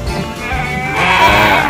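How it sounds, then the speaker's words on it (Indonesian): Goats bleat on a smallholding farm in Banyuwangi, Indonesia, with several overlapping animal calls at close range growing louder toward the end, no voices. "ada kambing-kambingnya Pak Cep ini yang mau dijual juga nggak masalah"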